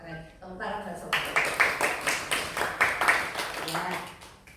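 A small group applauds in a steady, rhythmic clap that holds an even beat for a few seconds after brief talk, fairly close and lively.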